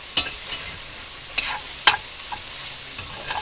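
Onion cooks in a pot under a gentle continuous sizzle, while a spoon stirs it with several crisp scraping knocks spaced a second or so apart.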